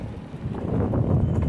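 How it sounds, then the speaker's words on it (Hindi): Wind buffets the microphone outdoors in a local market in Bissau, Guinea-Bissau, as a low, rumbling roar that swells steadily and stays loud throughout, with no clear voices. "आवाज लग रही है, हवा चल रही है।"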